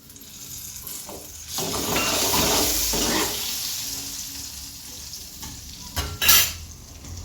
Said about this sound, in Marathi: कढीपत्त्याची पानं घेऊया टाकून।